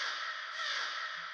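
A sampled crow caw with reverb, used in a song: one sustained, harsh, wash-like call that fills the whole moment, fairly loud and with no other voices.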